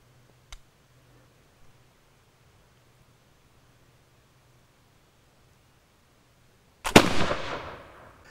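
A Brown Bess India Pattern flintlock musket made by Miroku fires near the end: a sharp, loud crack with a fizzing flash and a decaying boom, after quiet seconds broken by a faint click of the lock.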